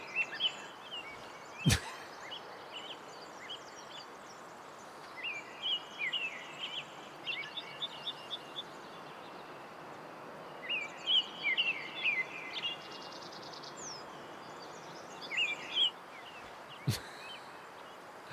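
Bird calls in the hunting game Way of the Hunter come in repeated bursts of chirps and trills over a steady ambient bed, with a few sharp clicks; no talking.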